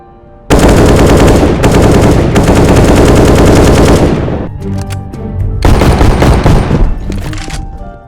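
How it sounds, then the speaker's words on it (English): Loud, sustained bursts of rapid automatic gunfire from blank rounds, a pause, then another long volley, close and harsh with no voices. "Blanks are bullets that don't leave the gun, but make an extremely loud noise"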